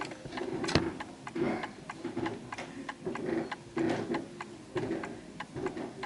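A 1930s Garrard Art Deco mantel clock ticks steadily in a room, its even beats repeating at a regular pace about two per second, clear but modest in level with faint background noise and no voices.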